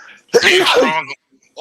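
A single loud, sharp sneeze erupts close by. Brief speech can be heard just before it and again right after.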